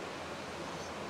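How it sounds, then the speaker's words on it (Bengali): Water poured into a cooking pot, a steady soft rushing wash with no breaks, faint and fairly close throughout the brief moment. "তো এর মধ্যে জল দিলাম"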